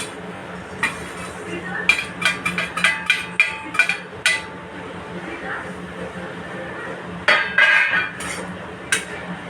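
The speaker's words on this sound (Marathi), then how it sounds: "पहिल्यांदा मी सुकट भाजून घेते." Dried shrimp (sukat) dry-roasting in a kadhai is stirred with a metal spoon: a run of rhythmic, close clinks and scrapes against the pan, then a pause and a few more clatters, with a voice talking softly underneath.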